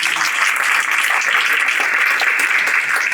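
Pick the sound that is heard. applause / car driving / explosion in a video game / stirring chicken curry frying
applause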